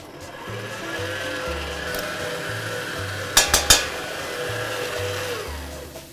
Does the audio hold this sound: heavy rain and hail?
no